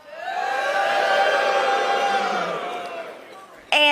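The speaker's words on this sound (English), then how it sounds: "It almost sounds like it's a fake booing" Large crowd at a CPAC political speech booing, a sustained massed roar of voices that swells and holds for several seconds, then tapers off before a sharp new burst at the end.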